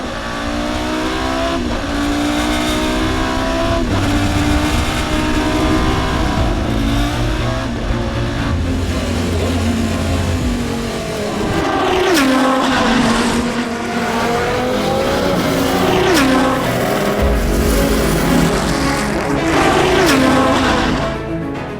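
A Porsche LMP 2000 race car engine screams at high revs above 7,000 rpm, rising and falling through repeated accelerations and gear changes, loud and close, with occasional tire noise.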